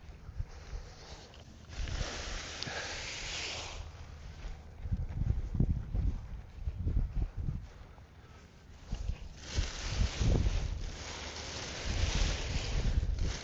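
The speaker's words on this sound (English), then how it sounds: "Yeah, so I have pretty light wind. I have about 5 mile an hour wind." Light wind of about five miles per hour gusting across an open field while a large paraglider wing lies stretched out for ground handling, with rumbling microphone buffeting that swells and eases in waves.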